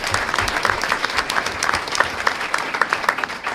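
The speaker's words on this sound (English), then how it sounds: "Let's give them a round of applause for Coach Meyer." Applause at a school board meeting honoring a girls' golf coach, a steady patter of many hands clapping in a room at moderate loudness, with no talking over it.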